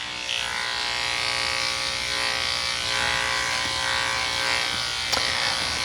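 Electric clippers with a 3/8 inch number 2 Andis comb shaving a dog during grooming, a steady close buzzing hum running throughout, with a brief click near the end.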